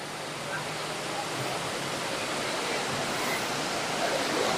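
Water of the Marikina River, risen after rainfall, rushes in a steady broadband roar that stays loud and even throughout, with no distinct splashes or pauses.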